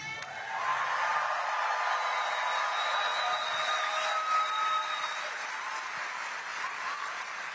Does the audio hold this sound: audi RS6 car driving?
no